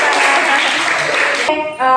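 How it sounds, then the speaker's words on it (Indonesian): Classroom applause for a student after a lesson presentation: a dense, steady patter of clapping for about a second and a half, then cut off by a brief tonal sound. "terima kasih Mas Andika, tepuk tangan"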